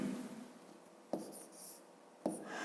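Pen or chalk writing digits while working a fifth-grade addition exercise, quiet scratchy strokes with two sharper taps as numbers are marked, close and alone without talk.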